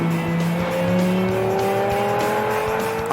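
A sports car drives loudly up close, its engine pitch climbing steadily as the tyres squeal throughout.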